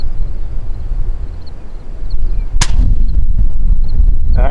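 A single sharp, loud crack from a .223 rifle fired at prairie dogs outdoors, with a brief rumbling echo and low wind noise before and after.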